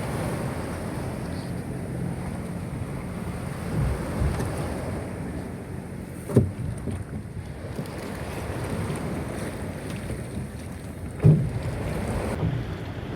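Boat ride on a choppy sea toward Mararison Island off Culasi, Antique, with a steady rumble of engine and water plus wind buffeting the microphone and a couple of louder thumps, probably hull slaps.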